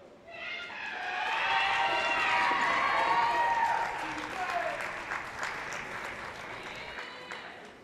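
A basketball crowd at Elyria Catholic roars and cheers for a hometown favorite, a loud sustained swell of cheering that peaks early, then eases into continued applause and scattered shouts.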